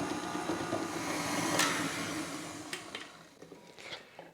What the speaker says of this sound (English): increase the speed to medium and beat until the mixture turns pale